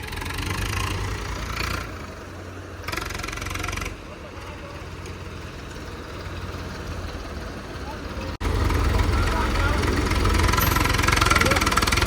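A Swaraj 855 tractor engine chugs steadily at idle, a low rumbling drone that grows louder and closer in the final few seconds, with voices talking faintly over it.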